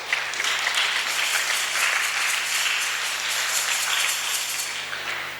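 A church congregation at a Sunday service applauds together, a dense, sustained burst of many hands clapping that fills the room at a steady level before easing slightly at the end.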